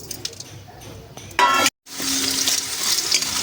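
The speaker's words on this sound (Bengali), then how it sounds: "ভালো করে এগুলোকে ভেজে নিতে হবে" Whole spices for a handi chicken masala dry-roast in a hot pan, a soft scraping rustle broken by a brief loud clatter and a moment of silence, then a steady bright sizzle close by.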